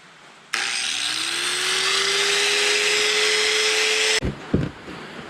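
A power tool drills out the rear rivets of an antique toolbox lid, a loud, steady, rising whine lasting about four seconds that stops abruptly, followed by a few short metallic clunks, with no talk.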